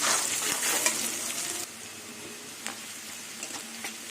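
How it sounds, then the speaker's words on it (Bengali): Garlic and onions fry in hot oil, a bright steady sizzle that is loudest at first, then drops to a quieter crackle with a few sharp pops and scrapes of stirring, close by and without talk. "রসুন পেঁয়াজগুলো লাল লাল করে ভেজে নেব"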